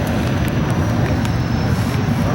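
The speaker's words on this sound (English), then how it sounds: "We'll get into the fighter aircraft, and these two come from Soviet Union." Soviet-built fighter jets at an airshow demonstration day at EAA AirVenture Oshkosh 2025, a loud, steady broadband engine roar that stays close and constant throughout.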